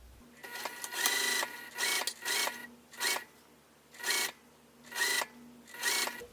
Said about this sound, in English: I'm just going to sew 1/8 of an inch all the way around